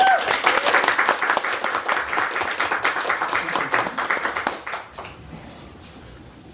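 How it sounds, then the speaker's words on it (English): Audience applause for poet Roshan James at a Toronto book launch of Pink Moon at Queen Books, a steady burst of clapping from a room of people that fades out over the final seconds. "Please welcome them with a round of applause as they take center stage."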